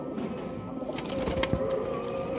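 Flying pigeons coo in a low, rolling murmur, close and fairly loud, with a few sharp rustles and taps mixed in and no voices.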